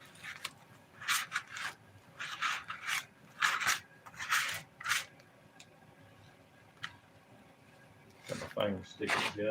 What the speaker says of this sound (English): we will go back over it and fill some of these tiny places up as we grind them down